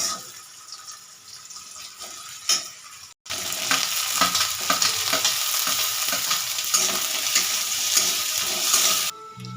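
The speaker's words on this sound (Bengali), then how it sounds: "পেঁয়াজটা একটু লালচে করে ভাজা হয়ে গেলে তারপর তাতে দিয়ে দিচ্ছি আলু।" Chopped onion and potato frying in a pan: a loud, dense, continuous sizzle that jumps up sharply as the potatoes go in, with occasional stirring scrapes, close by and without talk.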